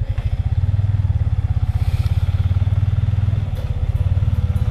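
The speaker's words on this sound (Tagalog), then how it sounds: "maririnig nyo yung tunog ng motor ko" A Yamaha Sniper 155 motorcycle engine runs steadily up close, a loud, even low throb with a fast pulsing rhythm and light mechanical clatter throughout, no voices.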